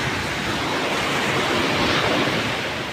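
Large ocean waves break near a seaside viewing spot, a continuous loud broadband wash of surf and wind with no clear individual crashes and no talk.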